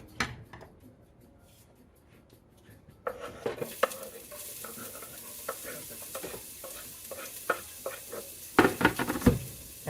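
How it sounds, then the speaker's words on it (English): Ground beef and onion hit a hot pan and begin sizzling, a quiet start giving way to a steady frying hiss with scraping stirs and clinks of a utensil against the pan. "we want to hear that sizzle, of course, when things hit the pan"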